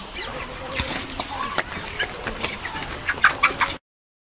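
Chickens (poultry at a household) cluck and squawk in short, irregular bursts close by, with scattered background noises before the sound cuts off abruptly.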